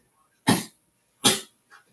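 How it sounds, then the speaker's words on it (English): A dog gives two sharp, close coughs about a second apart, followed by a softer, shorter hack, with quiet between them. "My dog's been coughing a lot lately"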